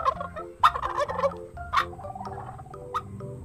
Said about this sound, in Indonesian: ternyata di dalamnya ada ayam kalkun